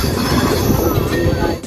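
Dhuli Express passenger train pulling out of Kharagpur station, a loud continuous rumble of rolling carriages with faint metallic wheel squeal, heard from on board and filling the whole clip.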